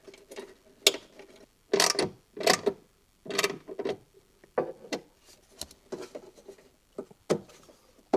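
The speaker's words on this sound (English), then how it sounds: "So grab the ground wire bolt and screw it onto the chassis." Ground wire bolt being screwed onto the chassis of a 2025 Honda Pilot while a trailer hitch harness is installed: repeated close ratcheting clicks and short mechanical bursts in an irregular rhythm, with no talking.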